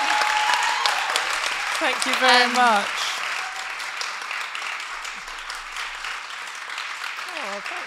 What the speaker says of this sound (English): Can we give you a huge round of applause?